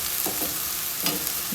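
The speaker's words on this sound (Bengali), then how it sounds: "পেঁয়াজ কুচি যে ভাজা হইতেছে" Chopped onion frying in a pan for chicken karahi masala, with a steady hiss of sizzling and two brief bursts of stirring noise, close and moderately loud.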